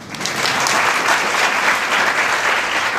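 A gathered audience bursts into steady, dense applause that rises quickly and holds evenly at close range.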